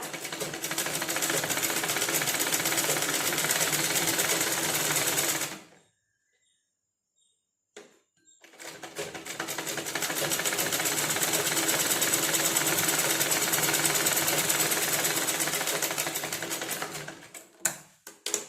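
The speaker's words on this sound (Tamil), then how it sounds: "அதுக்கு மேலே லைனிங் கிளாத்தை வச்சு ஒரு 1/4 இன்ச் டிஸ்டன்ஸுக்கு ஸ்டிச் போட்டு எடுத்துருங்க" Sewing machine stitching lining cloth onto a blouse piece at a quarter-inch seam, running loud and steady for about five seconds, pausing in near silence, then running again at a constant pace before stopping.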